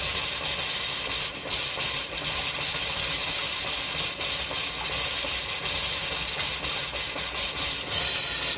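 A Dewalt 6 gallon tank air compressor blows out the hot water line of a tiny house being winterized, giving a steady, loud hiss with engine-like rumble that holds throughout with no talking.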